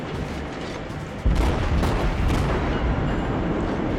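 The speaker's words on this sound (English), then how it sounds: "Just keep up the withering hail of gunfire." Naval guns of the cruiser Cleveland fire in World of Warships, a dense, loud rumble of overlapping booms with a sharp heavier blast partway through, continuous and roaring.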